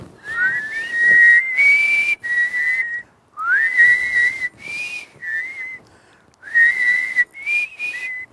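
Several people whistle outdoors at an old homestead backyard, a bright sustained melody in phrases with short pauses, close and clear with no talking.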